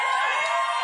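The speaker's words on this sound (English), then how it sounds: "people are cheering because now 9 dudes are pretending to be him" Live improv comedy festival audience in Chicago cheering and applauding, a dense steady roar of crowd noise sustained without break at fairly strong level.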